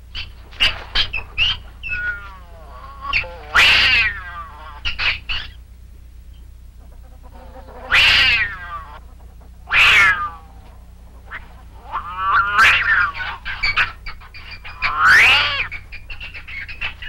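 A domestic cat fighting a marten lets out a series of loud, drawn-out yowls and wails in separate bursts, with quiet pauses between them over a low steady hum.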